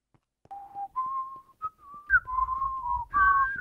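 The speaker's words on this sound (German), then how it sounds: "Nicht pfeifen." A person whistles a short tune of sustained, sliding notes with brief gaps between phrases, close and clear, with a low rumble underneath in the second half.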